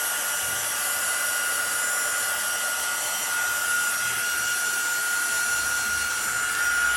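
Hand-held electric dryer blowing steadily to dry wet stamping ink on a stamped card, a continuous broadband whir that stays close and even from start to finish, with no talking.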